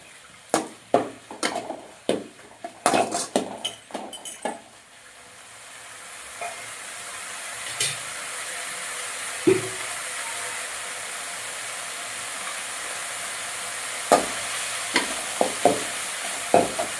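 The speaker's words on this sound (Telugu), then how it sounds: "కొంచెం ఇదంతా మనం మసాలా పట్టే వరకు కొంచెంసేపు మనము ఇలాగా కలుపుకుందాము" Vegetable noodle masala being stirred in a frying pan, with repeated sharp scraping strokes against the pan over a steady sizzle that grows into a continuous fry, with occasional clinks later on.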